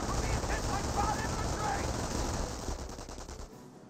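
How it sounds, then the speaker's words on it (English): MG42 machine gun fire in the Company of Heroes strategy game, a dense continuous rattling burst with battlefield noise that cuts off near the end. "He's setting up the MG42 on that crater, which may hit the rifleman."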